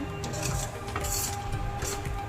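A spoon stirring ragda, a spiced pea mixture with lemon juice, in a pot, giving close, continuous scraping and light metallic clinks with no talking.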